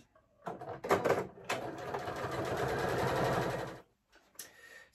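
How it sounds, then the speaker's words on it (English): A sewing machine runs a medium-length straight stitch through fabric for a children's bunny bag. It gives a close, steady rapid whirring burst of a few seconds, stopping briefly between runs, with no talking. "I'm using a straight stitch, just on a medium length, and I'm just gonna stitch that in place."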